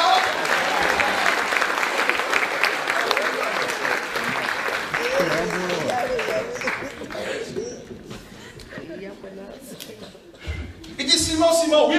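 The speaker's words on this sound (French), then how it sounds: "On acclame le Seigneur pour sa parole." A church congregation applauds the Lord in sustained, dense clapping at a worship service, with voices and cheers mixed in, fading somewhat before a fresh burst near the end.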